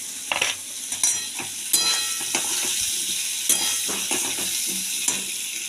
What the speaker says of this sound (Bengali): দেখুন সবজিটা প্রায় আমার ভাজা হয়ে এসছে।